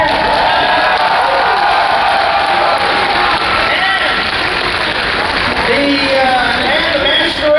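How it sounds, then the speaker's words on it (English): Large convention audience at a masquerade costume show applauding and cheering, a dense sustained wash of clapping and crowd noise with voices rising through it, steady and loud throughout. "please give a big round of applause to the staff of the Convention Center"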